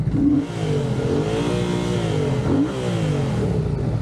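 A motorcycle engine revs up and down in two rising-and-falling sweeps, loud and close, recorded on a motovlog camera with steady engine drone between the revs.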